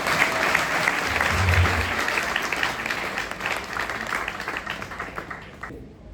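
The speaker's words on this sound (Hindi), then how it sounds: "तालियां हो जाए, शाबाश।" Sustained, dense applause from an audience at a seminar or talk, steady and fairly loud throughout before tapering slightly at the end.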